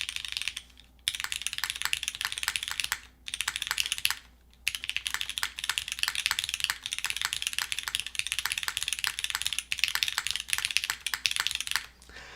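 Mechanical keyboard with Cherry switches on an aluminum plate typing steadily, a dense run of crisp clicky keystrokes with a few short pauses, close and fairly quiet.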